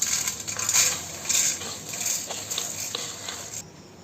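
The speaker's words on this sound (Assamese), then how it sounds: "এইখিনি মই এটা ডাঙৰ চৰিয়াত ঢালি ল'ম।" Fried flattened rice (poha) tipped into a large pot in a home kitchen gives a dry, rustling pour with scattered clinks of flakes and utensil against metal, steady and close, ending abruptly.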